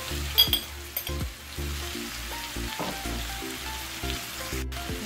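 Ground pork frying in a pan while being stirred, a close sizzle broken by repeated scraping and clattering spatula strokes, with low hum in the background and no talking.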